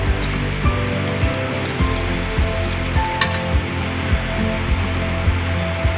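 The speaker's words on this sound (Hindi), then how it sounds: "अब मैं इसमें डालूंगी 1 कप के जितना पानी" About a cup of water pours into a cooking pot of fried yogurt and masala for beef kofta curry, giving a steady rushing stream over sizzling and bubbling, with small clinks at close range.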